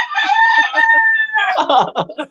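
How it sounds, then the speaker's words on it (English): Loud rooster crowing up close, a long drawn-out call followed by rougher, broken crowing notes, with no talking. "Hear those roosters crowing, man."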